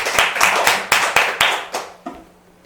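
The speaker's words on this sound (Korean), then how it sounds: "박수." A Buddhist congregation at a Friday dharma service in a temple hall claps together in a short burst of roughly eight sharp, regular beats that fade out.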